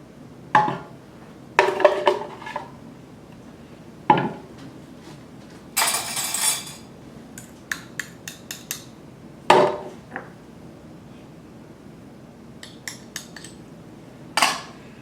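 Utensils clink and scrape against dishes as food for lasagne is moved into a small bowl: scattered sharp, close knocks and clatters separated by quiet gaps.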